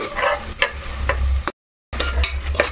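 Chopped onions sizzle and crackle in hot oil inside a pressure cooker while being stirred, a steady frying hiss with scraping stirs, briefly cut off to silence before resuming.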